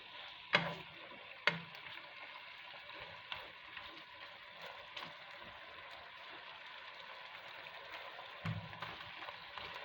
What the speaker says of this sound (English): So the oil is gonna fry this up and brown this up beautifully for me.